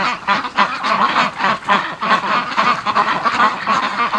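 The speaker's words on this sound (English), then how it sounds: "They're so silly, ducks." Muscovy ducks crowding home from a muddy yard, close-up rapid honking and quacking calls in a dense, pulsing chorus with no one speaking.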